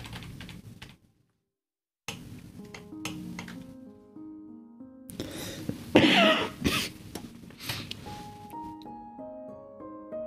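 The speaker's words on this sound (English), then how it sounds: "Sorry about the cough." A single close, sharp cough from a person at a desk bursts out midway, with soft computer keyboard typing and taps before and after it.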